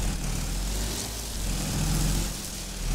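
The engine of a Sawraj 855 tractor in Farming Simulator 22, stuck and struggling to get free, drones continuously at a steady low rumble, close and fairly loud, with no voices.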